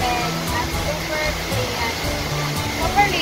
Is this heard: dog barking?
no